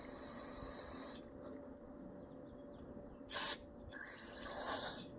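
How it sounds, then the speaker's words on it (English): Aerosol carburetor cleaner sprayed into the carburetor of a Troy-Bilt lawn mower: a constant hiss of spray, then a brief loud burst near the middle and a longer close spray at the end, with no talking. "Try to get it sprayed out without getting me full of garbage."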